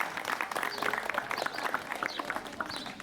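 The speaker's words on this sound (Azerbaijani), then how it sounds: "Buna görə şagirdlərimizi bir ürəkdən alqışlayaq." Scattered clapping from an audience applauding students at a school graduation ceremony, moderately loud with uneven, irregular claps and some background movement.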